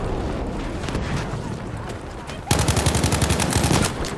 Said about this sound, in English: I'm gonna shoot to your left.